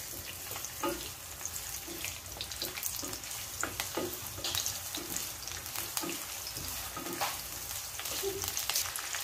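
Onion sautéing in a pan with pork fat for Bisaya humba, a steady moderate sizzle with occasional stirring scrapes and clicks throughout, no talking.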